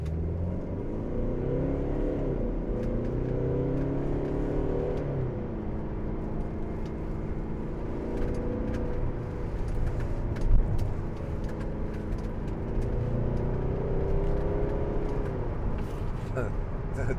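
A 2012 Mercedes-Benz SLK250 CDI BlueEFFICIENCY AMG Sport diesel with a 7G automatic, held in first gear in manual mode, revs up repeatedly in rising and falling sweeps, heard from inside the cabin as a steady droning whir.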